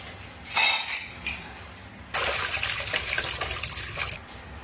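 Two short splashes of water, then a burst of running tap water pouring over dishes for about two seconds, with faint clinks.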